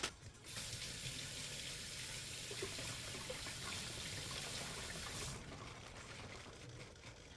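Bok choy is rinsed under a running kitchen tap, giving a steady, close splashing stream that continues almost unbroken and shifts slightly near the end.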